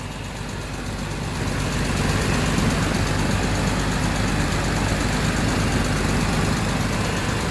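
A 1973 Jaguar XJ6 with the XK 4.2 engine idles cold on choke, a loud, steady, rumbling idle that picks up slightly after the first second and then holds even.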